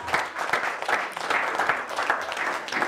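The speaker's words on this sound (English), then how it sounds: "can you give them a round of applause?" A crowd at a charity gala at the London Hilton, Holland Park, applauds steadily, dense overlapping clapping that stays loud and even for the whole stretch.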